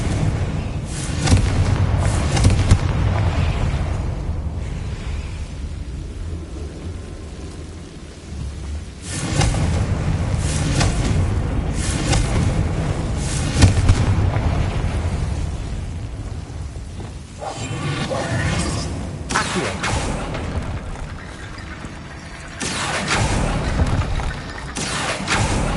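Blasting spell explosions in a Harry Potter video game, heavy booming blasts in repeated bursts with rumbling decay, loud and separated by short quieter gaps.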